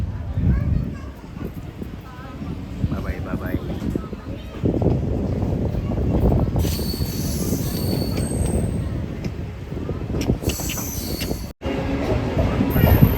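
A passenger train on the Puttaparthi to Coorg route rumbles along the rails with steady low wheel and carriage noise, a brief bright squeal around the middle, and children's voices talking nearby over the running sound.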